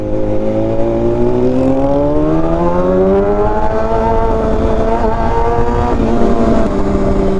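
A motorcycle engine on a short ride in Pangasinan after the rain, droning steadily close by with its pitch rising and falling smoothly as the rider accelerates through the gears.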